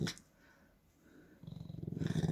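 A Welsh corgi gives a low, rumbling growl close by, quiet at first and then swelling into a pulsing, throaty snarl toward the end.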